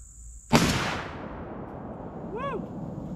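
A single sharp 300 Blackout rifle shot fired at a large booming firework on a range, a loud crack followed by a long fading echo and a brief chirping whistle afterward.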